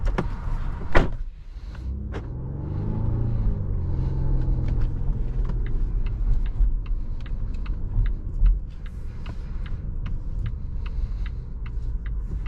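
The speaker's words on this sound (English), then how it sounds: "Close that door." A 2023 Volvo S60 Recharge T8 Plus door shuts with a sharp thud near the start, followed by a low cabin rumble and small clicks and taps, with no talk.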